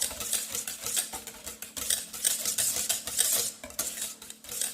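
Homemade monoi conditioner mixed in a bowl set in a cold water bath, with rapid rhythmic clinking and scraping strokes of a utensil against the bowl, close and continuous, no talking.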